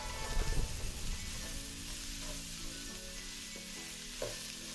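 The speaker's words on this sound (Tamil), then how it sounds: "இதெல்லாமே அந்த வெங்காயம் இந்த இந்த மசாலா கூட சேர்கிற மாதிரி நல்லா கிண்டி விட்டுக்கணும்" Onion and masala stirred as they fry in a pan for snake gourd poriyal, a close continuous sizzle with spatula scrapes and faint clinks, steady and moderately quiet with no talk.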